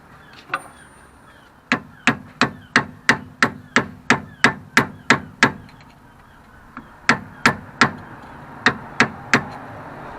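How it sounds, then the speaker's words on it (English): Rapid metallic taps of a hammer striking a flathead screwdriver to straighten lock washer tabs on a 1985 Toyota Celica Supra tie rod, in two quick bursts of evenly spaced sharp knocks with a brief pause between. "straighten out this tab here, and this one over here as well, using a flathead screwdriver and a hammer"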